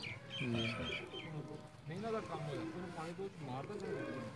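Pigeons coo softly from a pigeon-keeping loft, their low calls mixed under steady, close conversation throughout.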